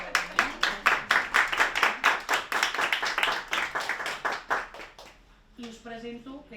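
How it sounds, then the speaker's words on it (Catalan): An audience at a women's art event claps in fairly sparse, distinct strokes, close and loud, tapering off near the end as a voice starts speaking over the last few claps. "Gràcies al Santi, que és l'impulsor de la jornada, un aplaudiment"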